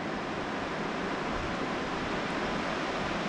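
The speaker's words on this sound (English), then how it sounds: "There's the waterfall, beautiful waterfall." Steady, broadband roar of rushing water, constant and fairly loud with no pauses, from a waterfall at Kankakee River State Park heard from nearby.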